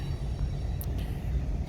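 A manifest freight train carrying dirt and rock rolls past in Ohio, giving a steady, continuous low rumble that stays even throughout, with a few faint higher clanks above it.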